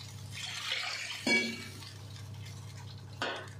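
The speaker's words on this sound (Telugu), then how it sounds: "ఏ గ్లాస్ అయితే ఉప్మా రవ్వ తీసుకుంటామో అదే గ్లాస్తో 3 గ్లాసెస్ వాటర్ పోయాలి." Water is poured from a glass into a pan while making upma, with a brief splashing pour and two sharp clinks of glass against metal over a quiet kitchen hum.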